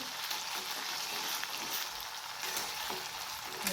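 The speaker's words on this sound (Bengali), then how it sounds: "এবার আমি প্রথমে আদা রসুনগুলো তেলে দিয়ে দিয়েছি" Ginger and garlic sizzling in hot oil as jackfruit curry gets started, a steady close hiss of frying with faint stirring, quiet and continuous.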